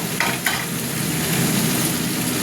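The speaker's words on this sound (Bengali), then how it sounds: "ফুলকপিটার সঙ্গে দিয়ে দেবো, একসঙ্গে দুটো কষবো।" Cauliflower frying with vegetarian spices in a pan, a loud steady sizzle with a couple of brief stirring scrapes near the start.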